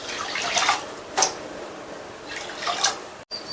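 Water poured from a cup into a pressure cooker holding basmati rice, heard as several short splashing pours with gentle trickling between them, close and moderately loud, with a clunk near the end.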